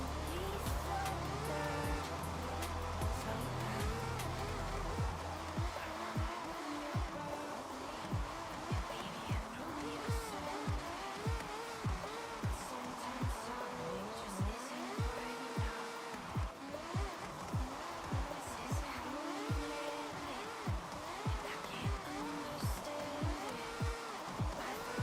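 A car drifts sideways on a drift track in the racing video game Forza Horizon, its engine revving in repeated rising and falling sweeps under steady tire squeal, loud and continuous across the whole stretch.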